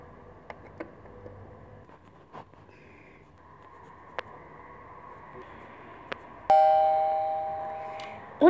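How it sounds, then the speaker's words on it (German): A Playmobil toy house doorbell gives a bright electronic ding near the end, after a stretch of quiet small tapping and handling sounds. "Ich habe erstmal einfach die Klingel gedrückt."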